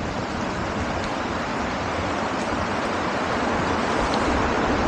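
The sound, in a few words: ocean waves and rain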